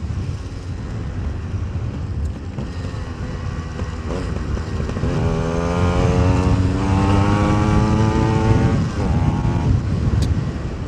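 A Yamaha RX two-stroke motorcycle engine runs steadily after a single kick start following 15 days idle, its buzzing idle rising into stronger revs midway, loud and close with no talk.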